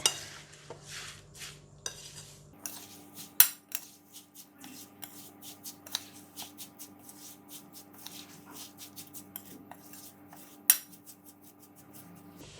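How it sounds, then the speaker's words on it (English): A spoon mixes homemade chilli garlic oil in a container, with light metallic clinks and scraping taps in an irregular rhythm, close and soft, plus a faint hiss. "Just give it a mix."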